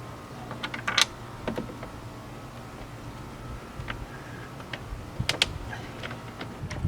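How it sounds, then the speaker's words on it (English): Screws being driven into the end of a Stage 3 Stingray spoiler winglet on a C7 Corvette Z51. It sounds like sparse, faint clicks and ticks scattered over a quiet background, with a couple of brighter taps. "Now I'm simply installing the screws on each end of the winglet so I can align it properly against the tape."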